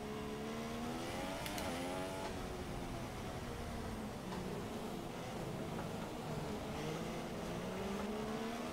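Formula 1 race car engine in the F1 2016 video game, a steady high-pitched whine rising and falling in pitch as the car accelerates and shifts gears, heard alone at moderate loudness.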